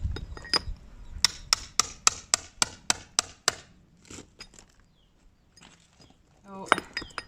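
Repeated sharp chisel strikes chip at a cellar wall, about a dozen evenly spaced knocks close by, then a quieter stretch of scraping and a few louder clatters at the end.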